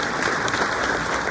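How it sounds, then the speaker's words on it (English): An audience claps at a chamber of commerce graduation morning event, a brief, dense burst of applause that stays even and fairly loud throughout. "Let's give a round of applause."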